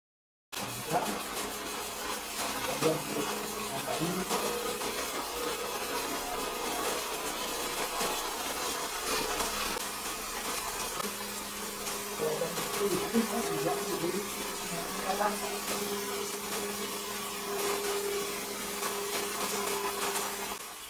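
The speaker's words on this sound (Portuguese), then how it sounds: "liga o liquidificador e vai colocando aos poucos" A blender runs steadily while a sauce for sandwiches is mixed, with ingredients added gradually. It makes a continuous, loud whirring drone that holds through the whole stretch, with a slight shift in pitch partway as the contents thicken.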